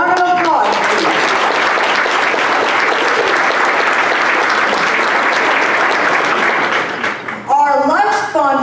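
A business forum audience on the Surrey development industry gives a loud, sustained round of applause for event sponsors, lasting about seven seconds, with a speaker's voice just before and after.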